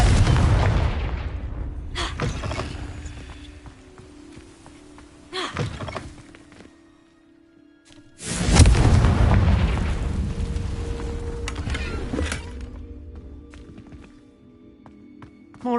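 Confringo blasting spells explode in Hogwarts Legacy, several heavy booms bursting out with rumbling tails, the largest around the middle, separated by quieter stretches of ambience.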